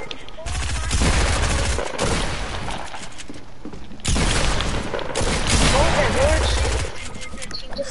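Rapid, loud video game gunfire in dense bursts, pausing briefly around the middle before resuming, with players talking over it.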